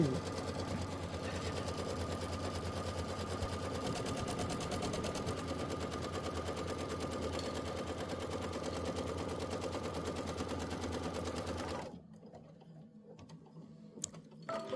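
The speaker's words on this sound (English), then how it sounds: "then we'll lay down our batting and our fabric at the same time, and then do our quilting stitch" A Kimberbell embroidery machine sewing a quilting stitch through batting and fabric, a fast steady mechanical chatter running loud and even for about twelve seconds before stopping abruptly into near quiet with small clicks.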